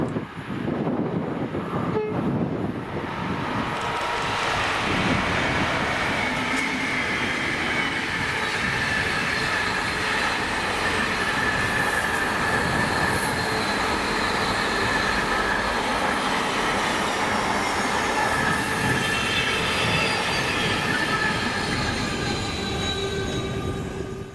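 Class 88 electro-diesel locomotive 88004 hauling a Coatbridge to Tilbury container freight train in Scotland, a loud continuous rumble of passing wagons with wheel squeal and rolling clatter throughout, close by.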